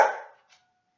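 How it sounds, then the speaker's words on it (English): A single sharp dog bark, loud and close, decaying quickly into near silence with a faint trailing echo. "I'm sure you guys heard my dog barking there"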